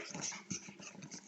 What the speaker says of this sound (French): C'est mon chien qui couine encore.